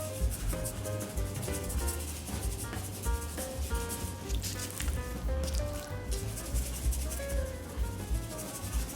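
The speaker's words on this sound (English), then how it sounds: "I use my hands to just kind of pat it in" Hands pat and rub Cajun seasoning into raw chicken breast in steady, close, soft slapping and rubbing strokes that continue throughout, over a busy background of music.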